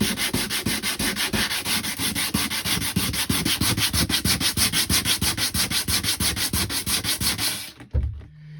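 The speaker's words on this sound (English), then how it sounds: "Right, that's it all sanded." Sandpaper rubs steadily back and forth over a cracked plastic shower tray, a fast, even run of close, loud scraping strokes that stops abruptly near the end.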